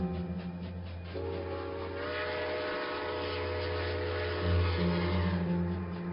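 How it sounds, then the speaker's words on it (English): A train rumbles close by as a horn sounds in sustained tones, the low rolling noise swelling slightly near the end. "The train is close enough to feel its vibration."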